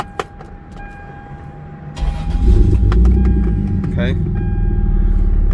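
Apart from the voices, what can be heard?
Toyota Supra MK4 engine with aftermarket exhaust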